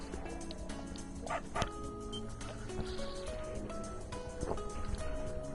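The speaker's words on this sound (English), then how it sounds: "It's a dog. It's a dog." A dog barks in the video game Tokyo Xanadu eX+, with a few short yips scattered among game music and background sound, fairly faint and partly masked.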